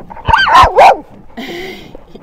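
A German Shepherd gives a few close yelping barks and whines, followed by a quieter rough vocal sound.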